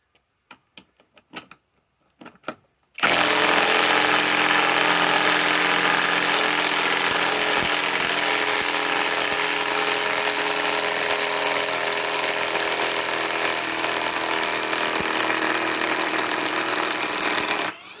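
A compact impact wrench removing nuts starts after a few faint knocks and then runs continuously, a loud, close, steady hammering buzz for about fifteen seconds before cutting off.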